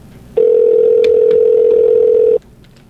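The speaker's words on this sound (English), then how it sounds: "come on, Norm, answer the phone" Steady single tone of an outgoing telephone call, about two seconds long and loud, with faint background noise before and after, as a phone line rings waiting for an answer.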